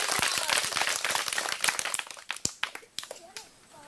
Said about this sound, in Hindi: एक बेर अहाँ सब जोर से ताली मार दिया